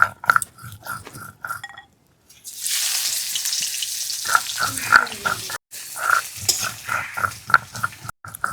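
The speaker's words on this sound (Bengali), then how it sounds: "এবার দিয়ে দিচ্ছি কুচিয়ে রাখা পেঁয়াজ" Chopped onion dropped into hot oil already frying dried red chilli and cumin, for a Sonali chicken curry: a loud, steady sizzle swells after a brief pause, with occasional spoon clinks and stirring scrapes over it.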